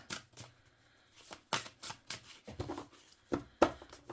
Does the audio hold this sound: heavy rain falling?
no